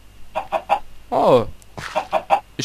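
Several short clucks from a Minecraft chicken, then a longer squawk, followed by more quick clucks, close and clear over a quiet hum.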